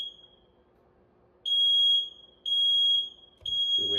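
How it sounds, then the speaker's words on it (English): A smoke-style fire alarm goes off at night, sounding loud, piercing high beeps in repeated roughly one-second bursts with short gaps, close by, with no talking. "This is the 6th fire alarm that's gone off in 24 hours."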